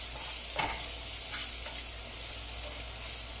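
Onion frying in a pan, a steady, moderately loud sizzle with a couple of soft scrapes from stirring near the start; no voices.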